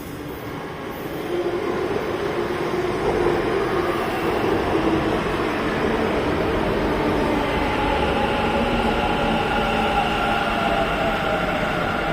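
A metro train glides past in Bengaluru with a steady rolling rumble that swells into a higher whine of wheels on track, continuous with no voices.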